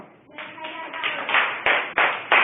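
Children in a classroom clap, beginning softly and building into a run of sharp, close bursts of hand claps that come in quick, uneven waves.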